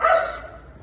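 A dog gives a single short bark or yip, fairly near and alone, fading quickly into quiet.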